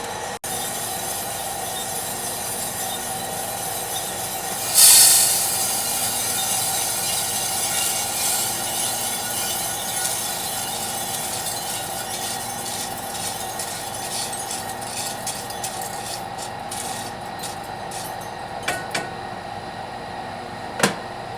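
Freshly roasted coffee beans dropping from a commercial drum roaster at about 400 degrees, heard as a steady, close mechanical rushing drone with a sudden loud burst and a few light clattering ticks later on.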